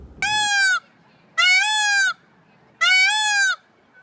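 A peacock screams three times, each a loud, drawn-out, nasal wail of under a second, separated by short pauses, close and clear with no other sound.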